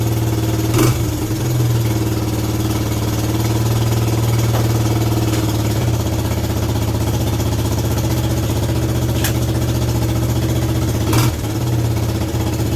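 A Suzuki LT125 ATV engine runs at a fast, steady idle, a continuous loud mechanical drone close by with a few brief sharp knocks.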